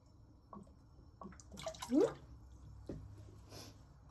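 Liquid aminos pour into a drink in a quiet kitchen, a tablespoon's worth trickling and splashing in a short burst near the middle, with a few faint clinks and soft drips around it.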